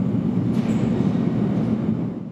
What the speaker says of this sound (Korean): 제가 지금 있는 이 공간 아래에는 이렇게 지하철 2호선이 지나고 있고요